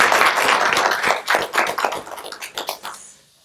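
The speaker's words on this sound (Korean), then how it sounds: "권영국 후보님에게 큰 박수로 인사 말씀" A small audience at a policy meeting with a Seoul mayoral candidate claps to welcome him, close, distinct hand claps that thin out into scattered taps before stopping.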